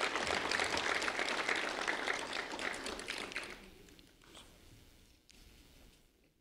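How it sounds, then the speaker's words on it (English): An award-ceremony audience applauds a recipient with dense clapping that fades after about three seconds, leaving a few scattered claps and light noise. "A round of applause for Mario Monti,"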